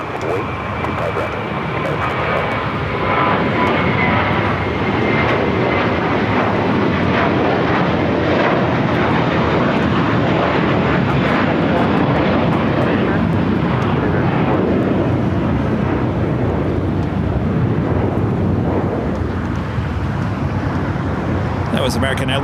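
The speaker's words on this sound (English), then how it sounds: "That was American Airlines Flight 4 heading to JFK in the A321." An American Airlines Airbus A321 jet roars on its takeoff roll from runway 25 Right at Los Angeles International, bound for JFK; a loud, steady, broadband engine rumble fills the whole stretch without easing.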